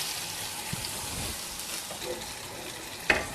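Water saved from rinsing a mixer jar is poured into masala frying with turmeric and garam masala for a kovakkai gravy, a steady soft hiss and sizzle throughout, ending with a brief sharp clink near the end.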